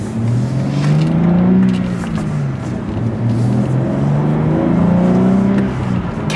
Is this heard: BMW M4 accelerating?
yes